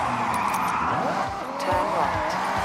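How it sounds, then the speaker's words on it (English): Engine drone and squealing tyres from a car in a driving video game, a steady loud motor with short skid squeals sliding in and out, while a voice talks over it. "I love the sound of this vehicle"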